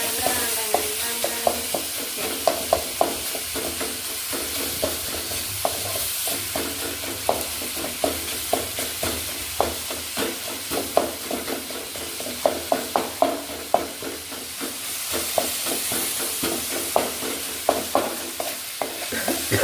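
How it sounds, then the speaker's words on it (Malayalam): Chopped tomato and green chili fry in a pan, a continuous close sizzle broken by frequent sharp clicks and scrapes of a spoon stirring against the pan. "ഇനി നമ്മളിതിലേക്ക് അരിഞ്ഞു വെച്ച തക്കാളിയും പച്ചമുളകും ചേർക്കും."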